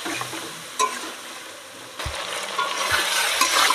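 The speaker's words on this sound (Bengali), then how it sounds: "মশলাটা দিয়ে এবার সুন্দর করে কিছুক্ষণ আমি ভালো করে কষিয়ে নেব।" Ground cumin and chilli paste fry with rui fish in oil while being stirred, giving a crackling sizzle broken by a few sharp clinks and scraping strokes of the spoon against the pan.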